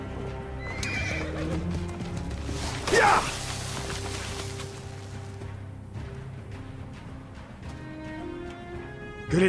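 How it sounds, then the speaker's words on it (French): A horse in the video game Assassin's Creed Origins gives a loud whinny amid clip-clopping hooves and ambient game sound, while a voice speaks briefly. "Bon cheval."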